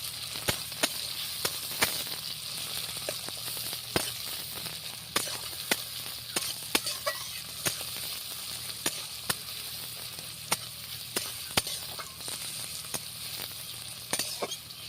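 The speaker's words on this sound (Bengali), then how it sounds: "কাঁচা লঙ্কা টমেটোগুলোকে একটু হালকাভাবে ভেজে নেব" Onion, green chili and tomato fry in a pan with a steady, moderate sizzle, punctuated by regular light taps and scrapes of stirring, heard up close.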